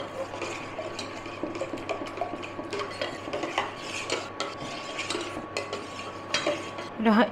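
A spoon stirs a chusi pithe mixture with date palm jaggery in a metal bowl, repeated soft scraping and clinking strokes at an uneven rhythm, close and moderately quiet with a faint steady hum behind.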